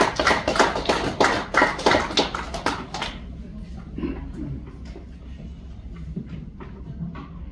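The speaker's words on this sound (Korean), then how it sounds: "박수로 환영해 주시기 바랍니다" An audience in a hall at a poetry book launch breaks into applause to welcome a speaker, a few seconds of brisk, fairly close clapping that stops abruptly, leaving room murmur and scattered sounds.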